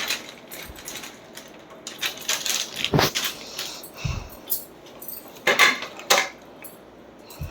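Metal thalis and utensils being set out and arranged in separate vessels for a household ritual, giving scattered clinks and clatters with sharp metallic hits, close and moderately loud, with no talk.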